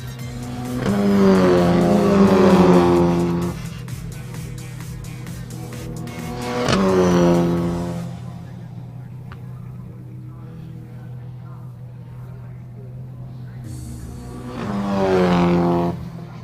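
From inside a GT race car in a GTC Supa Cup race at Zwartkops, the engine howls and climbs through several loud acceleration surges, dropping back between them.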